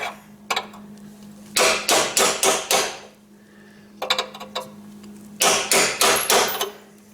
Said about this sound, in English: I'm just taking this little flat chisel.